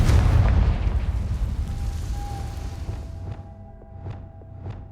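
A Confringo blast spell in Hogwarts Legacy goes off as a loud, booming explosion right at the start, then rumbles away into a fading tail with faint chimes and swooshes trailing behind.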